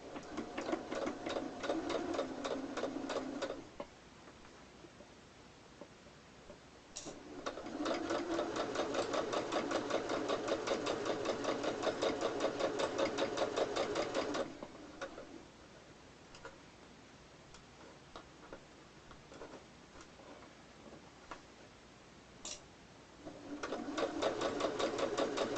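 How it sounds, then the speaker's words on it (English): Sewing machine stitching a tea towel pillow, a fast even mechanical whir with rapid ticking needle strokes, running in long bursts with quieter pauses between. "You're just going to sew along where you pinned on both pieces."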